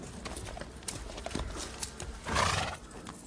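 A horse kept in a royal stable, neighing loudly near the middle amid uneven hoof clip-clop and shuffling close by.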